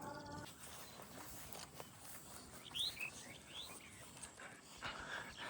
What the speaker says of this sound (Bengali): এইখানে কিছু পাখি আছে, সব আননোন কিছু পাখি